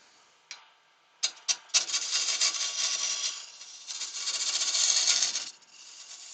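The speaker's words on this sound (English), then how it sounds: "Just sand it out." Wood being sanded by hand, a few sharp taps and then long scratchy rubbing strokes that swell and ease, close up and without talk.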